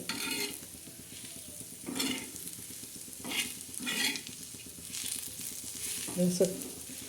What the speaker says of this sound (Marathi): सुकत भाजलं पाहिजे लालसर भाजायचं